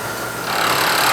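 A heavy milling machine cutting aluminum stock in a single deep pass: a dense, loud, continuous grinding hiss that steps up in intensity partway through as the cutter bites in, close and steady, no talk.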